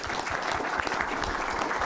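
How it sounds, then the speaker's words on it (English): Steady applause from a conference audience thanking a space medicine summit panel, dense continuous clapping filling the room throughout, no talk over it. "Perhaps we can give them one last round of applause."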